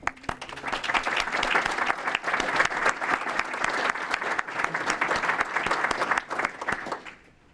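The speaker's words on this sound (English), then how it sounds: "we'll give you a quick round of applause" A room full of people at the 2019 Berkley State of the Cities event clapping for past Best of Berkley honorees, a dense, steady round of applause that holds for several seconds before quickly dying away.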